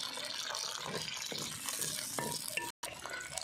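Hot oil crackles and sizzles softly as green chili and coconut chutney ingredients fry in a pan. A steady low hiss runs throughout, with small pops and stirring, and there is a brief dropout near the end.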